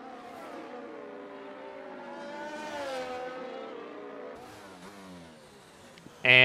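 Race cars lapping a track in a racing video game at the Portugal Grand Prix, engines whining as they climb and drop through the gears, ending with a sudden loud burst.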